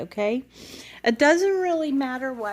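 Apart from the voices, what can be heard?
No everyday noise stands out behind the speech.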